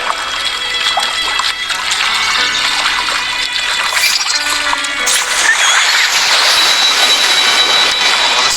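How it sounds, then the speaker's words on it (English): Water rises in a video game quest as a loud, continuous rushing roar with a trickling, splashing texture that swells slightly toward the end. "Another water rise is coming up."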